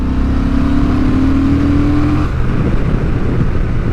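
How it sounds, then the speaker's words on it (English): A 2023 Honda Transalp XL750 adventure motorcycle in fourth gear at full throttle, its engine droning loud and close with a rising pitch, then settling into steady wind and engine roar. "Now we're in 4th gear, we're sitting at 30 mile an hour, full throttle"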